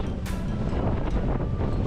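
Steady 15-knot headwind roaring and buffeting close to the microphone aboard a sailboat heading south for Cape Hatteras, with a low rumble and hiss of water underneath, continuous for the whole stretch.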